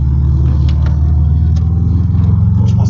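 A Subaru running without a catalytic converter gives a loud, close, deep engine rumble. The low pulsing throb holds steady throughout, with no voices.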